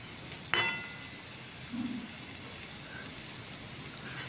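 Potatoes, onions and green chillies sizzling softly in a pan while being stirred together, a steady low frying hiss with a brief sharp clatter near the start and no talking.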